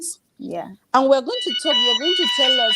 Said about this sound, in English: Oh, that's a fire alarm.